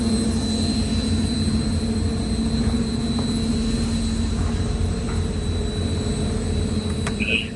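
Industrial power-generation turbines burn fuel to supply electricity for an entire processing facility, producing a loud, steady roar with a constant high whine that holds unchanged throughout, with no voices.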